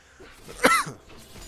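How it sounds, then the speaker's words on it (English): A person with a cold clears a scratchy throat once, a single short close rasp between quiet moments. "clear my throat a bit"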